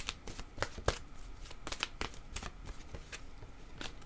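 Oracle cards being shuffled by hand, a quiet, steady riffle of rapid papery flicks and slaps continuing for several seconds close up, with no talking.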